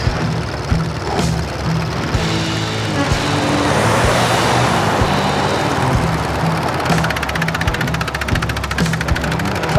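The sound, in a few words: truck passing by on the road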